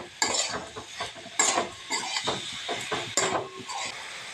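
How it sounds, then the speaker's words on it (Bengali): A spatula stirs a filling of grated coconut and melted sugarcane jaggery in a pan for dudh puli pitha. Close, rhythmic scraping strokes repeat about every half second over a soft background sizzle. "গুড়টা নাড়তে নাড়তে গলে গেছে অনেকটা। নারকেলের পুরটা এবার আমি তৈরি করে নিচ্ছি।"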